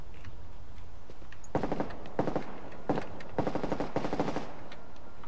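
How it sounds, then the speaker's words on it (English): In the video game Contagion, a machine gun fires in several rapid bursts, each a tight rattling string of shots separated by brief pauses, loud over a constant background hum. "It's a gun with lots of ammo in it."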